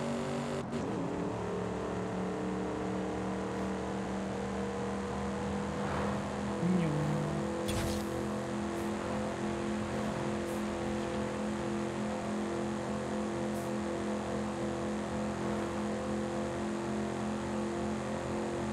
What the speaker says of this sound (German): Beschleunigung aus der Hölle